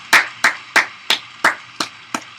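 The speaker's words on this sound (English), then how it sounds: "Oh, they clap." Audience applause heard as about seven distinct, evenly paced claps that ring out clearly one after another, fairly loud, with no voices over them.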